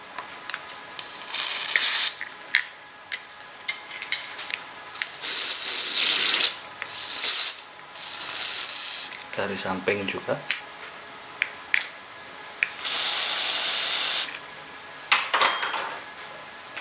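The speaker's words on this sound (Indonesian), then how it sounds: "kita semprot semuanya menggunakan karburator cleaner" Carburetor cleaner sprayed in repeated hissing bursts over an Optimus Polaris Optifuel multifuel stove during cleaning, loud and close, with a brief spoken phrase between bursts.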